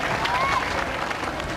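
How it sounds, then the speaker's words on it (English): A crowd at a 1996 Bass Masters match gives player Kevin Boone a roar of applause, with broad, steady clapping and crowd noise filling the short stretch, a commentator's voice faintly under it. "And a great roar of applause for Kevin Boone."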